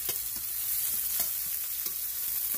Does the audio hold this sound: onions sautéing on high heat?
yes